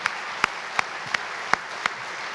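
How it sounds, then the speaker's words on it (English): A handful of separate, evenly spaced claps ring out over a soft hiss of room noise at a 2019 Eagle Scout dinner, each one distinct and fairly quiet, six in a slow rhythm. "Another round of applause."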